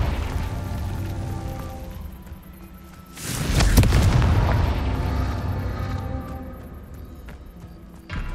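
A Confringo blasting spell detonates in a Harry Potter video game: a loud, sudden blast breaks over background rumble, then swells into a long roaring decay that slowly fades. No one speaks.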